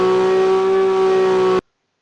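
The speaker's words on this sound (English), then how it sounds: "And the rev sound is basically when the RPM is" A simulated car engine revving in an Unreal Engine drift game gives a loud, steady high-pitched whine with strong tonal harmonics, held for about a second and a half before cutting off abruptly into silence.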